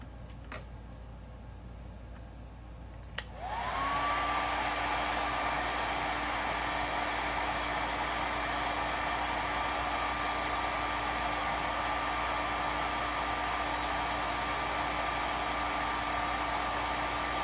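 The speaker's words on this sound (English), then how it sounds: "Turn the hairdryer on" A hair dryer switches on after two sharp clicks and blows in a steady, loud whoosh with a faint rising whine, spinning a fidget spinner bearing, and runs continuously to the end.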